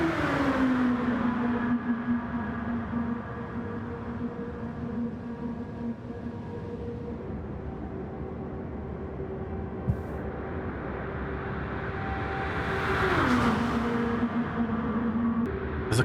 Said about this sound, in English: As the cars thunder down the back straight for the 3rd time.